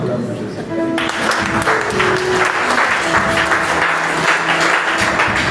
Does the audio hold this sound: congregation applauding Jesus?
yes